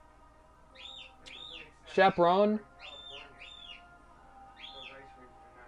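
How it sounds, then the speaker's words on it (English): Small birds chirp in repeated short tweets throughout, moderately clear behind a gaming setup, with a brief spoken word cutting in midway. "Also, I very much apologize for the birds."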